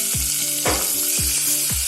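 Whole spices and sliced large onions sizzle and crackle steadily in hot oil for a biryani, with a few scraping stirs of a spoon in the pan, close and loud, no voices.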